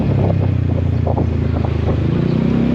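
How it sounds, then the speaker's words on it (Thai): Motorcycle exhaust drones loudly and steadily while riding toward a market in Vientiane, Laos, with heavy wind buffeting the microphone throughout. "เสียงอาจจะฟดนะเนาะเพราะว่าท่อดังนะแล้วก็มีลมพัดเนี่ยเนาะ"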